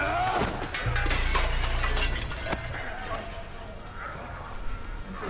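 Glass shattering in a fight scene from the 2014 film The Equalizer, a loud crash with scattered breaking and crunching debris, mixed with other action noise and people talking over it.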